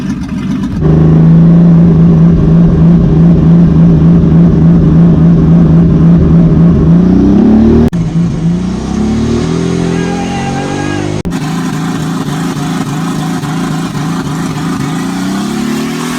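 A Nissan 280ZX race car launches hard on its first drag run of the night, its engine roaring loud and close through a long rising pull, then a shift and a further strained climb as it speeds away.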